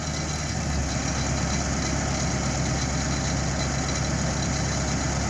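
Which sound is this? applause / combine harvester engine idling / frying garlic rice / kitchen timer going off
combine harvester engine idling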